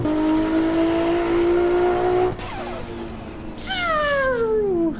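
A Toyota Supra engine in a racing video game on a full motion simulator revs with rising and falling pitch sweeps, loud and continuous, cutting off briefly before climbing again with a sharp whine.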